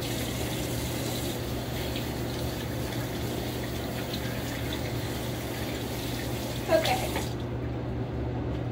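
A tap runs steadily into a sink during hand washing, a constant close rush of water with a brief clatter near the end before it cuts off.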